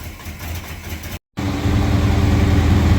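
A 1966 Ford LTD V8 engine at high idle, a steady, loud low rumble that drops out for a moment and then returns even stronger and rougher.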